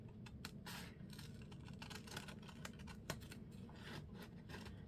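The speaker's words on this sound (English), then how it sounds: "I'm gonna try in here to cut right inside the circle." Scissors cutting a circle out of paper for a science journal, a steady run of soft snipping and scraping strokes, close and fairly quiet, with no voices.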